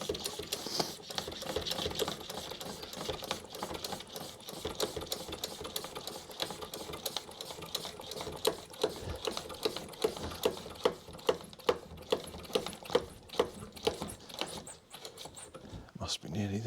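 A hand pump pressurising a brake fluid bleeder on a 2021 Ford Transit Custom 2.0 diesel, giving a close, rhythmic series of mechanical strokes that gets sharper and more distinct toward the end, with someone speaking at times.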